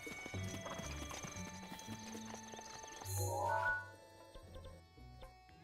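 A horse trotting in the video game Breath of the Wild gives a quiet, rhythmic clip-clop of hooves, with a brief neigh or snort midway over soft game music.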